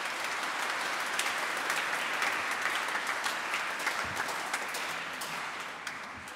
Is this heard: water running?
no